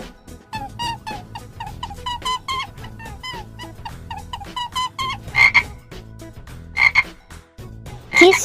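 A frog croaks in a rapid series of close, loud, throaty calls, pulsing rhythmically for several seconds, with a few sharper squeaky bursts near the end.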